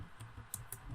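A few soft, quick keyboard key taps, faint and close, with no voices.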